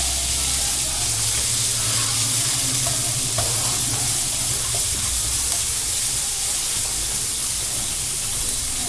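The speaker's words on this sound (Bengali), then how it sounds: "গাজর আর আলু এটা খুব ভালো করে নাড়াচাড়া করে কষিয়ে নেব" Carrots and potatoes stir-fried in a pan give a steady, loud, continuous sizzle and hiss with faint scraping of stirring underneath, no voices.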